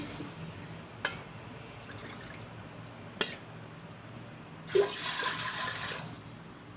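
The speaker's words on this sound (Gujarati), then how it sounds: "તો આ એક ત્રણ ઘણું પાણી નાખશું આપણે" Water is poured into a cooking pot holding oil while sorghum khichdo is being made: a brief splashing pour arrives near the end after a couple of sharp metallic clinks, fairly quiet in a still room.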